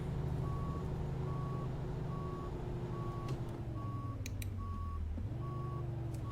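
An International LT truck in American Truck Simulator backs up, its reversing alarm beeping at an even, repeating rhythm over the low steady drone of the idling diesel engine, with a brief pitch dip in the engine partway through.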